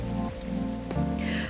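Rain falls steadily in the Coffee Talk 2 game, a continuous close patter on a surface with soft musical tones playing underneath.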